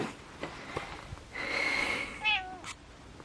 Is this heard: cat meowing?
yes